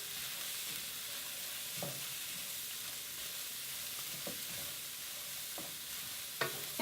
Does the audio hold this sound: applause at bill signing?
no